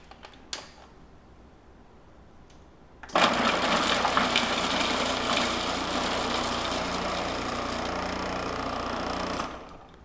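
Food processor blending roasted red pepper hummus with garlic cloves, quiet at first, then a loud steady whirring motor starts and runs for about six seconds before cutting off.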